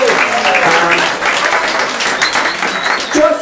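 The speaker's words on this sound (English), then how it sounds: "Give them all a huge round of applause." A crowd applauds competitors at a limerick competition final, close, loud and continuous clapping with scattered voices and cheers woven through.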